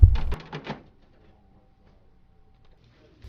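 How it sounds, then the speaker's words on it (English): A Dell laser printer's plastic toner cover is lowered into place, giving a short close clunk followed by a couple of lighter rattling knocks, then near silence. "And lower the toner cover in place."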